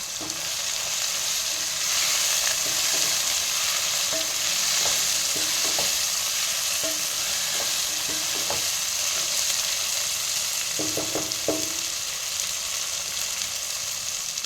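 Tomato, green chili and curry leaves sauté in a pan for potato puttu, giving a steady frying sizzle with scattered stirring clicks and scrapes, loudest near the end.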